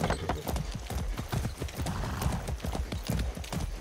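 A horse's hooves clop in a quick, steady rhythm on hard ground in the game Far Cry 6, close by, with a faint whinny mixed in.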